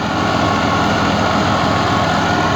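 An Al-Ghazi 60 tractor runs a rotavator to prepare soil for potatoes, its engine a loud, steady, unbroken drone with no pauses.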